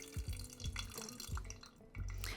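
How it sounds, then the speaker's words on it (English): Water poured over a paper filter in a Chemex glass coffee brewer, rinsing and preheating it: a close, trickling splash with a few dripping pulses, no talking. "Give your filter a good rinse."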